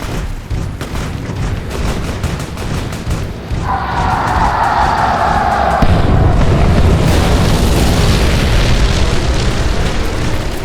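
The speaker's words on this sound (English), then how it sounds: "someone just bombed the embassy" A heavy bombing blast in a video game battle on the strip, a loud sustained booming roar that swells midway and keeps rumbling with debris and distant gunfire, with no voices.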